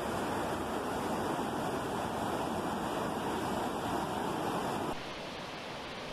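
A river swollen after a storm rushes loudly and continuously in a dense roar, close by, with no voices. The level drops slightly near the end.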